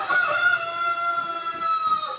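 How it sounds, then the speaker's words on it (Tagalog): Close by, a big rooster gives a single sustained crow, bright and strong from start to finish, with no voices over it. "Sobrang laki. Tumitilaok pa."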